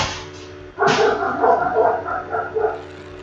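Dogs bark in the video game Nom Nom Galaxy, a sudden burst of cartoonish barking that continues in uneven repeated yaps over a steady game soundtrack, with no talking.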